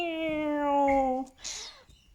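A cat in a lounge room lets out one long, clear, drawn-out meow close by, followed by a brief breathy noise and quiet.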